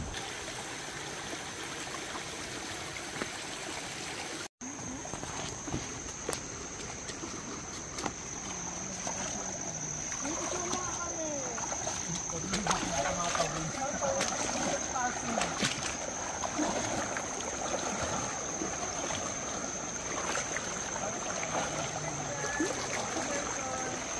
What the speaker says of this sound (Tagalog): narinig yung agos ng ilog.